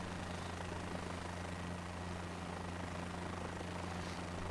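A helicopter in Microsoft Flight Simulator 2024 drones steadily, a dense broadband rotor and engine roar with a constant low hum beneath it, continuous and unchanging throughout.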